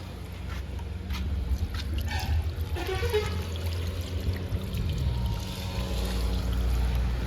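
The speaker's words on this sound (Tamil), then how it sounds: "அந்த கூடாரத்தில் நம்ம கை கழுவு போகிறோம்." Tap water running steadily at a hand-washing tent in a dhaba restaurant, a continuous pouring and splashing stream with background noise and no speech.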